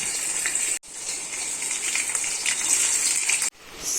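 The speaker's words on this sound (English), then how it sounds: "in the heated oil goes in my chicken" Chicken pieces for Lahori chicken hit heated oil in a pan and fry with a loud, steady hissing sizzle that cuts out briefly twice.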